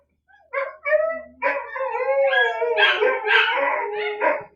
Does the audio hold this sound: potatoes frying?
no